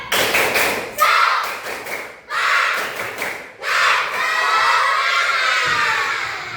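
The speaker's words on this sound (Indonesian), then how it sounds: "Coba tepuk semangat dulu. Tepuk semangat." Primary schoolchildren in a classroom perform a rhythmic clapping chant, bursts of group claps and shouted words in short patterned phrases separated by brief pauses, loud and close.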